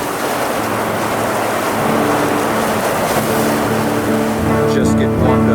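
Deep roaring wind from a close EF4 tornado, a loud continuous broadband rush that swells and gusts throughout, with engine-like rumble and a brief crackle near the end.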